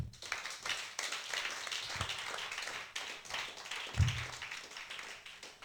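A church congregation claps to acclaim the Lord, with fairly faint, rapid rhythmic clapping continuing throughout and a few louder hits standing out.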